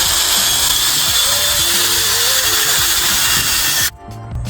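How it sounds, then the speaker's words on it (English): A handheld drill spinning a polishing pad buffs the paint of a $900 auction car, a loud steady whir with slight pitch wavering that cuts off abruptly near the end. "I usually do like 2 passes over the whole thing while I'm doing the drill"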